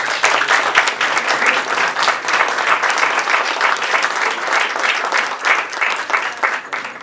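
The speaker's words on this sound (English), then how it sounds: "Please join me in giving Mr. Mehran a warm round of applause." A lecture audience gives dense, sustained applause, many hands clapping steadily at close range without pause.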